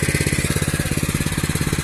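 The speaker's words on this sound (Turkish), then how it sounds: "şimdi bismillah çalıştırıyorum. Evet. Motor sıcak olduğu için ciddiye çekmeden çalıştı." A Honda GX 200 petrol engine on a tiller runs warm at a steady idle, its rapid even putter close and continuous with no talk.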